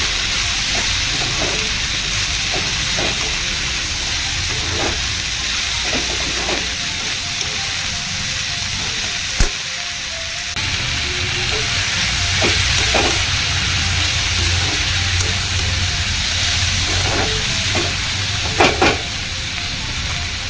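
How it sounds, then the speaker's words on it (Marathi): Bitter gourd slices sautéed in a pan for karela bhaji, with a steady broadband sizzle running throughout and occasional scrapes and knocks of a spoon stirring the vegetables, close and fairly loud. "छान परतून घेऊया।"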